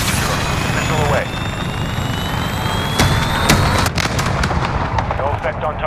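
A missile strike launched in the shooter Call of Duty: Modern Warfare, heard as a sustained roaring whoosh with sharp bursts and thuds over loud ambient battle noise, while a radio voice talks over it.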